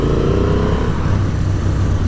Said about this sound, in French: J'adore le son de ce Twin. Le travail sur l'échappement qu'a fait Honda est remarquable à ce niveau.